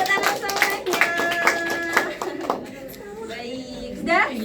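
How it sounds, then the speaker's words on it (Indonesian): A classroom of children claps hands in a quick, regular burst of about a dozen near, sharp claps that fade into quieter voices and scattered taps. "Oke, tepuk tangan semuanya."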